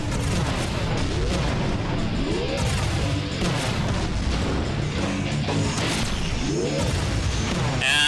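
Rockets fire and burst in the side-scrolling action game Iji, a dense, loud barrage of booms and crashes with rising whooshes, continuous and alone without talk.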